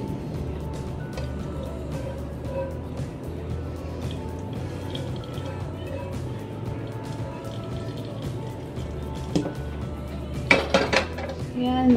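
Cooked food for stuffed peppers strained using a pot in a home kitchen, with soft metallic clinks of pots, pans and utensils, trickling liquid, and a few sharper clatters near the end.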